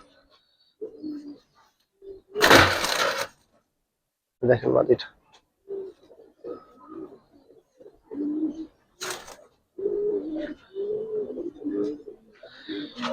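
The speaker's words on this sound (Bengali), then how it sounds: "বাঘা সাপচিলা কবুতর যেটাকে বলে। মাদিটা সম্পূর্ণ লাড্ডু কলার কবুতর" Bagha Sapchila pigeons and a laddu collar female coo in low, soft repeated phrases, close by, mostly under someone talking, with a couple of brief loud rustling bursts.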